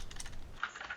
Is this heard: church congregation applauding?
no